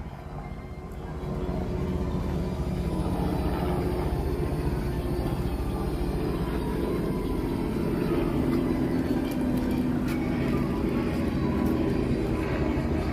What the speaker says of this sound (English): There goes one of the helicopter tours.